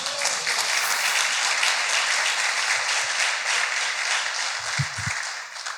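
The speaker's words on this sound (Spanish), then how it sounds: "Dale un aplauso al ser la gloria." Sustained, loud applause from a church congress audience of men, dense and steady throughout with no speech over it.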